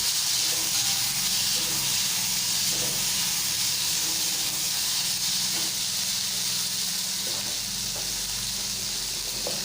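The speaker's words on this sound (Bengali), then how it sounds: "দিয়ে কিছুক্ষণ হালকা আঁচে এগুলোকে নেড়ে চেড়ে ভেজে নিতে হবে" Cracked jujubes frying over low heat while being stirred in a pan, a soft continuous sizzle and hiss with occasional light stirring scrapes.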